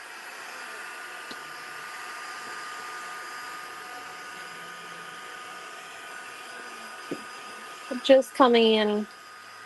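A dryer blows a steady, even whoosh over a mixed media art piece for most of the clip, moderately quiet and close, before a person briefly speaks near the end.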